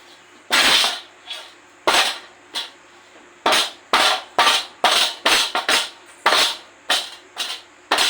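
Sharp, hard cracks of a block of jaggery being broken into pieces, about a dozen loud close knocks in irregular clusters with short gaps of quiet between them.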